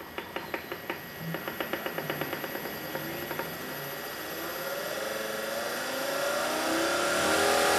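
An electric trolling motor fed from a battery through a variable speed controller starts with a series of rapid clicking pulses, then settles into a steady hum that climbs in pitch and loudness, close and without talk.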